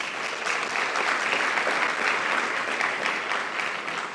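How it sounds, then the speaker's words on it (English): Steady, dense applause from an audience at the Women Economic Forum ASEAN 2025, greeting a former Deputy Prime Minister of Malaysia; even, sustained clapping with no pauses. "Let us give her a round of applause."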